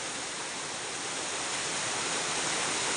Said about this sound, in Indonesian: Material-material pun yang besar pun ikut terbawa banjir karena tekanan air sangat tinggi.